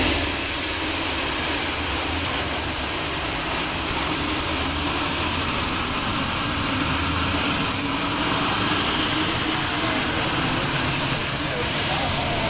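A jet-powered car roars continuously at a drag strip with afterburners lit, a loud, steady blast heard from the crowd area while people talk beneath it.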